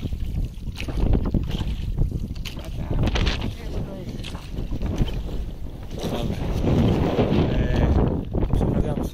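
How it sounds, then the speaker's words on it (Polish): A rowboat carrying a bicycle crosses the Vistula river at Solec, with water sloshing against the hull and heavy wind buffeting the microphone in uneven gusts. "Przeprawiamy się aktualnie na drugą stronę Wisły w Solcu."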